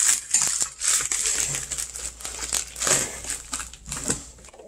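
Plastic and cardboard packaging of a Samsung Galaxy S10e being ripped open, a steady run of crackly crinkling and tearing bursts, loud and close with no speech.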